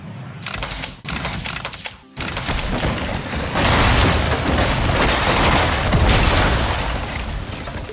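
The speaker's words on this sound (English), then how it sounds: "First, the tank will destroy a small house." A LEGO Fortnite tank smashes a small house in the game, a loud rumbling crash of breaking blocks with a short gap, then a sustained dense roar of debris.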